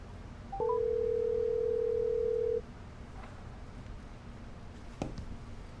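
A telephone call is placed: a few rapid dialing beeps, then a single long steady tone for about two seconds, followed by quiet line hiss.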